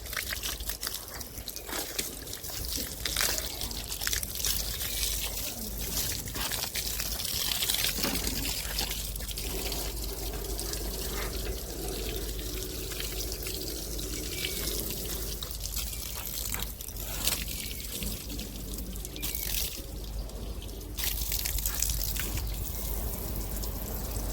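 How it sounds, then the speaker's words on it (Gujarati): Water pours steadily into buckets, a continuous rushing splash that holds for a long stretch with slight shifts in tone. "આ ડોલોમાં પાણી ભરી લઈએ"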